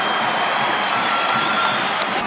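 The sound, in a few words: crowd cheering at college wrestling match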